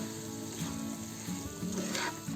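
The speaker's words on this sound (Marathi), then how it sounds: "आपल्याला असे पिठामध्ये भाजायचे म्हणून आपण ड्रायफ्रूट पहिले तळून नाही घेतले, म्हणजे भाजून नाही घेतले." Dry fruits and rice flour roast in ghee over a low gas flame, giving a steady soft sizzle and crackle with faint scraping stirs throughout, close and continuous with no talking.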